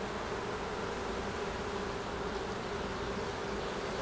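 Honey bees at an apiary hive in Québec make a dense, continuous buzzing drone that stays even and close throughout, with no voices.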